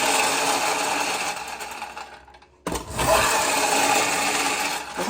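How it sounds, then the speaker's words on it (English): A vintage Tetsujin friction-motor toy car rolls along a surface with a steady close whirring and rubbing. The sound drops out briefly halfway, then resumes just as loud. "So this has a strong friction motor."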